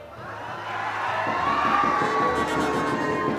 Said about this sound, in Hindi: कमजोर तालियों के साथ नहीं सुनना है इस बात को